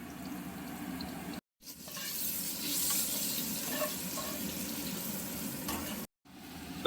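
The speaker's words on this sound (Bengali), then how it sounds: "ঝটপট আলুটা ভাজা হয়ে গেল" Potatoes frying in oil with turmeric, salt and nigella seeds give a steady broad hiss with faint crackles, nearly continuous and close, broken by two brief silent gaps.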